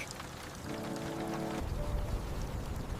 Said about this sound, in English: The rain is pouring down so hard, we really must drive home safely right away.